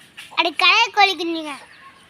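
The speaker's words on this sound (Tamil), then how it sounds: "என்ன நிஷா கோழி குஞ்சு கோழி குஞ்சு பார்க்குற வேலை இங்கே பாருங்க" Bright, high chirping calls from chicks, several quick cheeps in a row, close by and fairly loud, with no talking.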